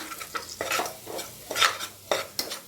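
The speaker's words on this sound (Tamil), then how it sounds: "இதில் மஞ்சள் தூள், மிளகாய் தூள், மல்லித்தூள் எல்லாம் சேர்த்து கலந்துக்கோங்க." Turmeric, chilli and coriander powders stirred into hot oil for a potato gravy, a spoon scraping the pan in repeated strokes over a soft sizzle, close and alone.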